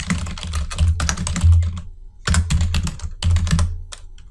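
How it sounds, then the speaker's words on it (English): Typing on a computer keyboard: dense bursts of quick, close key clicks in three runs separated by short pauses. "You'll simply type that out."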